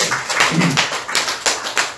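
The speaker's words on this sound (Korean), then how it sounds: "박수 한번 쳐드릴까요?" A Korean church congregation claps during a Sunday morning service, a close, uneven patter of separate hand claps in loose bursts across a couple of seconds, with no talk.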